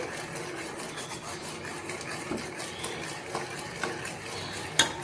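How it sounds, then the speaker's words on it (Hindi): A spoon stirs gulab jamun mixture in a pan, making steady soft scraping and rasping strokes close by, with a few sharper clinks of metal near the end. "ये देखें, आपने मुसलसल चमचा हिलाते रहना है।"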